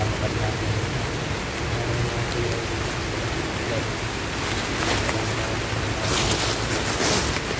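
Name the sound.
rain in the mountains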